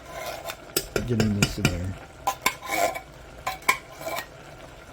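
Canned cream of chicken soup goes into a pot of creamy chicken and rice, bringing a run of close metallic scrapes and clanks of a utensil against the pot, with a brief spoken remark in the middle.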